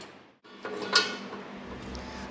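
A metal lid is set onto a cooking pot of chicken milk pulao/khichdi in a home kitchen, giving a single clear clink with a short ring that is followed by faint clattering.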